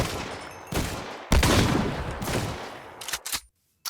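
Several loud gunshot bursts from a gun in the Minecraft mod Scorched Guns 2, sharp separate blasts with short gaps, ending in silence and a final click.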